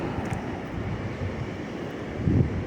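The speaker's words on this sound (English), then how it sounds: "Yeah, it's a little windy today" Breezy wind gusting across a microphone outdoors in a park after a storm, a steady low rumble of buffeting that swells briefly near the end, with no voices.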